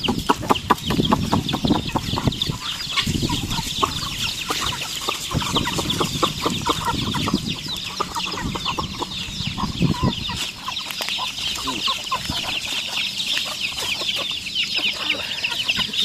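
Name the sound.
chickens clucking on a poultry farm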